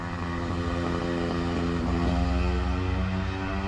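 A DJI Mini 3 Pro drone hovers nearby in wind, giving a steady, loud propeller whine with layered buzzing harmonics that holds constant throughout, with no talking.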